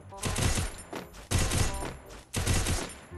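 Rapid automatic gunfire from Free Fire on PC, three loud sustained bursts of about a second each separated by brief gaps, close and dense.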